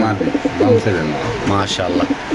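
Pigeons cooing at a bird market, repeated low throaty coos layered with overlapping calls, with vendors and buyers talking nearby throughout.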